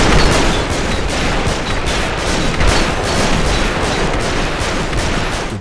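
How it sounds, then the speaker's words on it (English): Loud, punchy gunfire from mech weapons in the game Armored Core V pounds in dense, rapid bursts, booming and continuous at close range with no voices. "to guns being so loud and more punchy than before"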